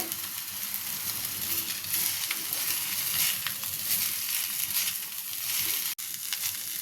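Egg Maggi noodles being mixed with Maggi masala, salt and chilli powder in a hot pan give a steady, close sizzle with faint scraping of stirring throughout, no voices.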